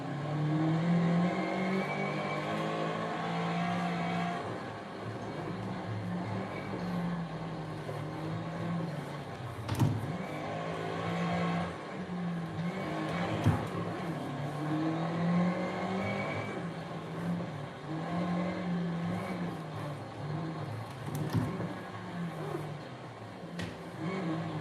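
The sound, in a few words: rally car engine revving and shifting in video game Assetto Corsa Rally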